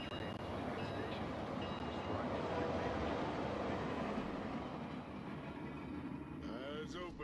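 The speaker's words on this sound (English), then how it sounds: "One of the trains is leaving the station." Train leaving a station in a StarCraft-style real-time strategy game, a steady dense rumble of wheels and carriages filling the whole stretch with a brief high chime near the end.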